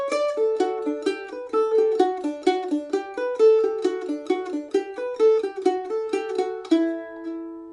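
A lone mandolin plays the first phrase of Fisher's Hornpipe as a quick, even run of bright picked notes, close and clear, ending on a held final note.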